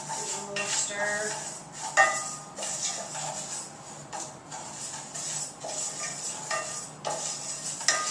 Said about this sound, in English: Dump that in. Give it a little stir.